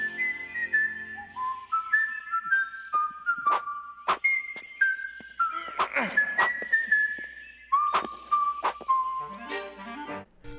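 Link from The Legend of Zelda cartoon whistles a tune, a clear, bright melody of short hopping notes with a few sharp accents mixed in, alone and up close.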